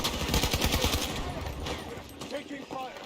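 Rapid automatic gunfire rattles in Battlefield 2042, a fast run of close shots that thins into scattered bursts, with faint voices and game sounds underneath.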